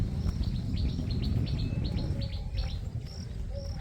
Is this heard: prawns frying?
no